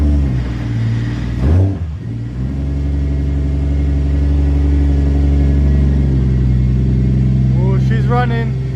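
A Toyota Supra Mk4 fitted with a newly installed twin plate clutch and a T56 Magnum six-speed idles with a steady, loud, close engine drone, with a brief dip and swell early on and some light rattling noises near the end.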